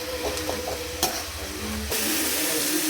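Onions and tomatoes sizzle in a pan with a steady hiss, broken by a few sharp scrapes and clinks of stirring, and the frying grows louder toward the end.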